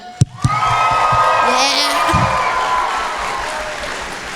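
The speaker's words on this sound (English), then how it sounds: "One more round of applause for them." A convention crowd at a cosplay contest bursts into loud applause with cheers and whoops, a dense sustained roar of clapping after a couple of sharp opening claps, with a brief shout from a voice.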